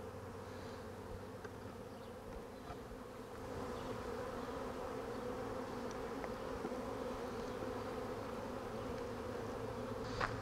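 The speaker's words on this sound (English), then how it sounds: "shake these bees back in there" A dense, continuous buzz of many honey bees swarming close by around a hive, steady droning with occasional louder passes near the listener.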